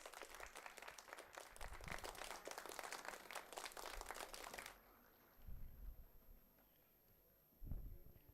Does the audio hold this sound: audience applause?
yes